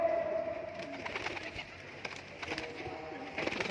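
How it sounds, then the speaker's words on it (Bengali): Giribaz pigeons coo softly while being fed, with low murmuring calls and faint bird chatter over a steady background of rustling and movement. "পায়রা সব খেতে দিচ্ছি, যার কারণে বেরিয়ে যাচ্ছে।"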